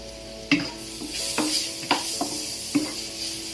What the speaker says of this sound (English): When the onion is a bit translucent like this, you can add in the garlic.